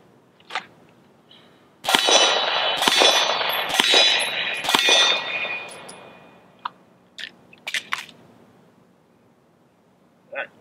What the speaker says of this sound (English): come up, fire good cadence of rounds on the steel, give me good hits on it, then execute the speed reload